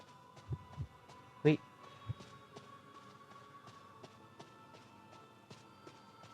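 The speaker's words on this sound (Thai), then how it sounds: "หัวใจ เสียงหัวใจเต้นนะ" In the Identity V game, a heartbeat warning plays as faint, muffled thumps spaced out over a quiet background hum, with a brief louder knock partway through.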